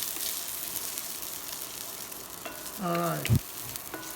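Garlic sizzling in a hot pan, a steady frying hiss that runs throughout at close range, with a voice speaking briefly and a utensil scraping near the end.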